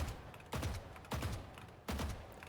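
Gunfire from an aim-training shooter video game arrives as three separate bursts of rapid shots, each one loud and sharp with a decaying tail, close up and with no voices.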